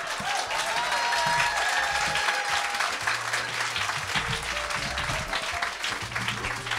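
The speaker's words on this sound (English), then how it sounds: "More applause." Sustained applause from a live audience after a standup comedy set by Elaine Miller, a dense steady wash of clapping lasting throughout at even loudness, with faint crowd murmur mixed in.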